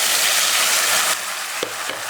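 Tomatoes sautéing in a pan for garlic kulambu give a steady, loud sizzle that drops a little partway, with a couple of short utensil scrapes near the end.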